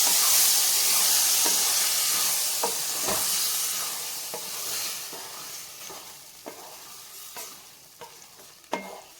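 Palak spinach is stirred with boiled bottle gourd and lentils in a pan, a loud hissing sizzle fading over time while spoon scrapes and clinks recur irregularly close by.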